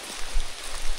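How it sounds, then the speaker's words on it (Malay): Heavy rain falls through a jungle at night, a dense steady hiss with low patter swelling and easing over one second, no voices. "Hujan makin lebat."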